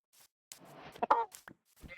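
A video game sheep bleating, a short wavering bleat among faint game sounds, fairly quiet and close.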